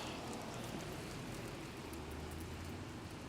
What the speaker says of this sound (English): there's no way I could walk around without an umbrella like this if it keeps raining this hard